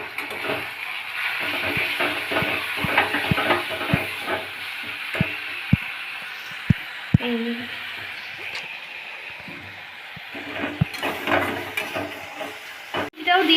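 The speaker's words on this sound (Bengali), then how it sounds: "তো আদা রসুনটা দেওয়ার পর আমরা কিছুক্ষণ ভেজে" Ginger and garlic paste frying with onions in a pan, a steady soft sizzle with occasional clicks of stirring, while a voice talks over it.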